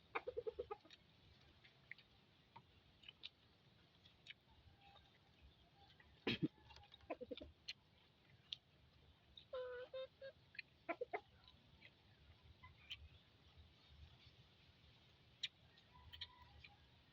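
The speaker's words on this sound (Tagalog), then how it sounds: "makasama ko lang manok dito. Mga manok." Chickens clucking faintly in the background, scattered short calls and squawks at irregular intervals over a quiet outdoor hush.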